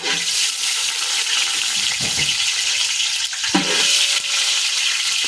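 Whole caraway, nutmeg, mace, bay leaf, cinnamon and cloves frying in hot oil for coconut rice, a steady bright sizzle with a couple of clinks and stirring scrapes, close and continuous without talk.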